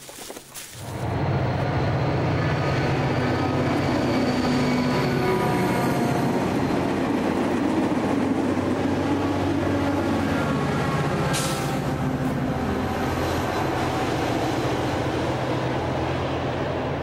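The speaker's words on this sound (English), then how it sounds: "Push-pull commuter train heading for a stop in Brunswick, a few miles up the path." A push-pull commuter train rolls past near Brunswick, Maryland, a loud continuous rumble of wheels and cars that swells in quickly and holds steady close by, with a brief higher screech partway through.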